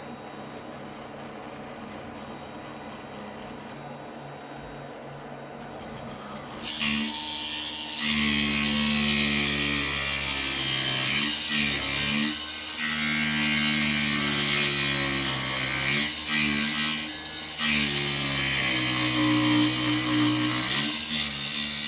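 A slitting saw cuts on a Millennium Machines Milo mill: a quiet whir with a thin high tone at first, then a loud, sustained high-pitched screech with wavering overtones as the blade bites the workpiece, close and continuous, no talk.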